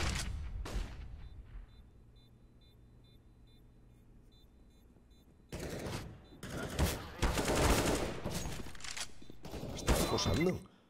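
Bursts of video game gunfire in a first-person shooter, a short shot early on, then dense rattling volleys crowding the second half, loud and close, with a quieter lull between them.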